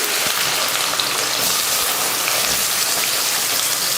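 Curry leaves, onion, mustard seeds and fenugreek fry in hot oil with a continuous close, loud hiss and dense crackle, like heavy rain, with no pauses.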